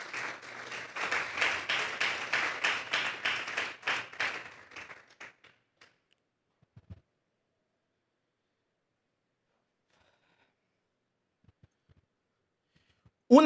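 A church congregation bursts into loud applause for the Lord, dense clapping for about five seconds that fades out, followed by near silence with a couple of faint taps.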